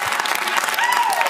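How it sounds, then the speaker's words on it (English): Applause fills a school board meeting room, a steady wash of many hands clapping at once, loud and continuous throughout with voices mixed in. "If we can keep our applause to a minimum"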